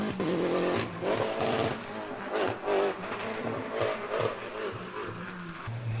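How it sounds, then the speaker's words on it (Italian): Suzuki Super 1600 rally cars in Spain drive past, engines revving and rising and falling in pitch at moderate distance, with no talk. "Queste sono le Suzuki Super 1600, che sono abbastanza diffuse in Spagna"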